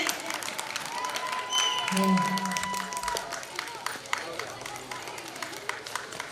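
Schoolchildren clapping together at a government primary school, a steady patter of many hands with some crowd noise, fairly close and even throughout.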